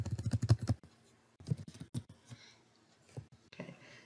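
Typing on a computer keyboard, close and quiet: a rapid burst of keystrokes, a pause, then a few slower scattered taps and clicks.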